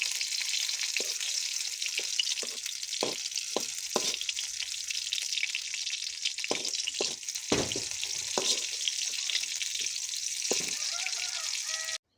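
Onions and chilies sizzle in a pan, a dense continuous frying hiss with short clacks of stirring spread across it, close and steady with no talk.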